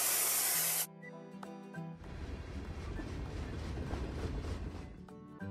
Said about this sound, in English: Look at the cloud and choose the spray gun cap of the same color.